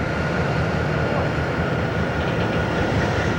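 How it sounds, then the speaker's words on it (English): D&H SB4, the Bethlehem Steel empty freight train, rumbles past steadily and loudly close by, with a dense continuous roar of wheels and cars throughout. "This is SB4, the Bethlehem Steel empty train."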